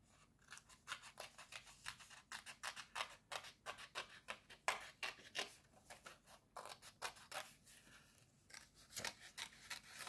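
Scissors cutting paper in rapid, irregular snips, each a crisp close-up crunch repeating many times with brief pauses, quiet overall and with no talking.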